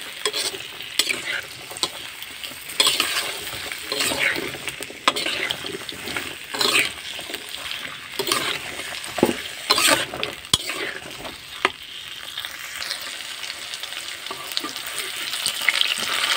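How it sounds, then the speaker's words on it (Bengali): Cubed potato and pointed gourd, dusted with turmeric, fry in hot oil in a pan with a steady sizzle. Repeated stirring scrapes come through clearly nearby, and nobody speaks. "এই পটল আর আলু আমি ভালোভাবে ভেজে নিব"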